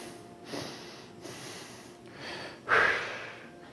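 A person imitates the heavy breathing of someone under stress: a series of loud, close breaths and snorting exhales, the last one strongest, with no speech.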